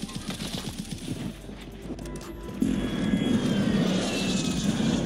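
An aircraft engine drones steadily, a recon drone flying back to base in Call of Duty on Rebirth Island, with a louder, fuller roar from midway under game ambience.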